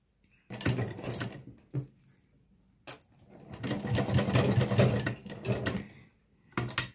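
A sewing machine stitches piping cloth along a fabric edge, running in a few short bursts and one longer stretch, with pauses where the needle is lowered and the work is turned at a corner.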